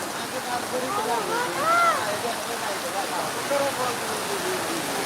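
Heavy, cloudburst-like rain pours in a dense, steady roar at Pirachi Kuroli, and a voice speaks over the downpour.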